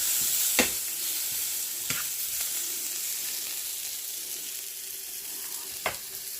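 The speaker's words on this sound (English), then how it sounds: "now I'm cooking my pineapple and onion" Pineapple and onion sizzling in a pan over a grill-side burner, a steady bright hiss of frying with a few sharp clinks of a utensil stirring now and then.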